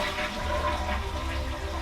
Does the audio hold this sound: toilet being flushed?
yes